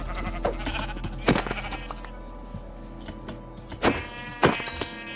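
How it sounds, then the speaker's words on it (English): Sheep in Minecraft bleat several times over a low game background, with a handful of distinct, fairly loud calls spread across about five seconds. No speech is heard. "More sheep."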